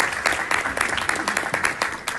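Audience applause at a Pakistani talk event, with brisk rapid clapping throughout a short stretch and a voice speaking over it.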